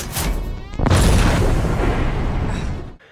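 A harsh flash explosion from the game Alien: Isolation: a sharp burst, then a second heavier boom that rolls on as a loud rumbling roar for about two seconds before cutting off abruptly.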